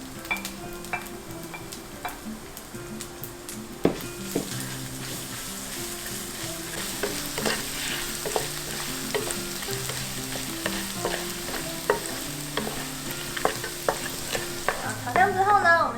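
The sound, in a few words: stir-frying minced ginger and chili in oil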